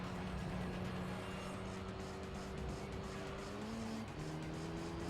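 Racing video game car at speed with tires squealing for grip, a steady engine drone under rising and falling skid tones, fairly close and continuous.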